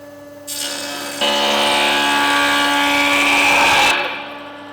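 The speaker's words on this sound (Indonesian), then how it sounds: "Ketamlah satu sisi ketebalan papan menggunakan mesin ketam penebal" A thickness planer shaves one face of a wooden board in a school woodworking shop, its motor humming before the cut bites into the wood with a loud, sustained roaring whine for about three seconds, then the motor runs down.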